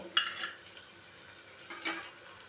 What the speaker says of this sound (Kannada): ಉಪ್ಪು ಸೇರಿಸ್ಬಿಟ್ಟು ಒಂದ್ಸಲ ಚೆನ್ನಾಗಿ ಈ ರೀತಿ ಮಿಕ್ಸ್ ಮಾಡಬೇಕು